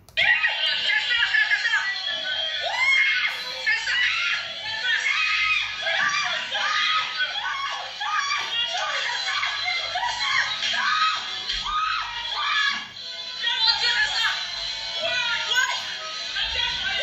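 Inside a nightclub, a crowd screams and shrieks excitedly in overlapping bursts for over fifteen seconds, loud and continuous, mixed with shouting voices and some laughter.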